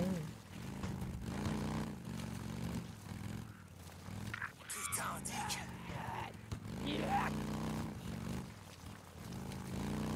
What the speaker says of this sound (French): la moto de base elle fait du bruit